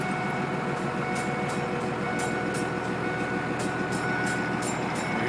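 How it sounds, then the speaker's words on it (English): A Cummins 12-valve diesel in a converted truck runs at a steady idle, a dense continuous drone with a repeating clatter and faint periodic ticks, heard alone with no talking. "I'm going to start the truck up now."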